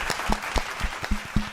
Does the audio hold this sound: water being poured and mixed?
no